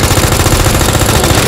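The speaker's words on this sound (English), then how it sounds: "Gotta shoot it." Rapid continuous gunfire in the game Resident Evil 2 Remake, a loud dense stream of shots filling the whole moment with no pauses.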